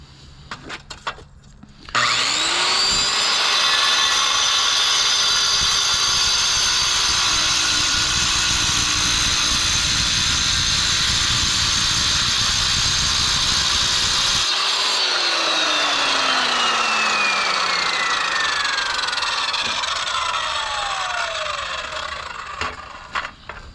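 A circular saw cuts through a granite countertop for a double vanity sink: the motor spins up, then a long, loud, steady grinding cut runs for more than ten seconds before the blade winds down, with no voices.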